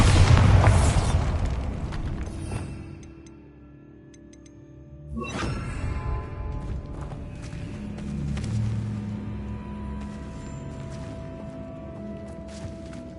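A Bombarda spell explosion in the video game Hogwarts Legacy gives a loud booming blast that fades into rumble, followed by a second whooshing burst and sustained low crackling debris, with no talk.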